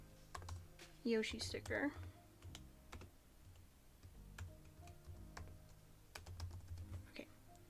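Quick, light keystrokes on a computer keyboard typing a file name, soft ticking taps spread through the moment, close and faint, with a brief spoken phrase over the start.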